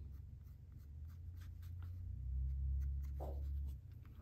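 A pencil scratches lightly across paper in short strokes while sketching eyebrows on a portrait drawing, quiet and close against a low steady hum.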